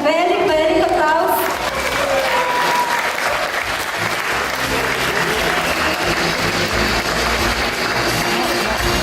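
An audience at a Slovenian show applauds, dense sustained clapping building right after a voice and cheering at the start, then holding loud and continuous to the end.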